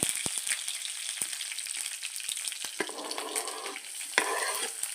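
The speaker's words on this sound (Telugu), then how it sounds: "పచ్చిమిరపకాయలు వేసుకుని బాగా ఫ్రై చేసుకుందామండి" Green chillies frying in hot oil with mustard seeds, cumin and curry leaves, a steady close sizzle with sharp crackles and pops and a brief stir, no talking.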